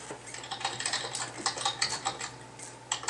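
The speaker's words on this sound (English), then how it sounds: "Who is typing?" Someone types on a computer keyboard nearby, a quick irregular run of light clicking keystrokes with no talk.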